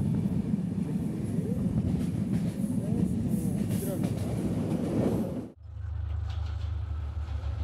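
A long-distance express train on the Dhaka–Panchagarh line runs steadily on its rails near Mangalpur station in Dinajpur, giving a loud continuous rumble. After about five and a half seconds it abruptly becomes a quieter, steady low hum.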